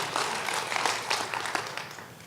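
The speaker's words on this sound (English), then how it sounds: "I'll let the people clap for the Climate March" An audience at an alumni weekend keynote gives a dense, sustained round of applause for the Climate March, a wash of many hands clapping that slowly tapers off.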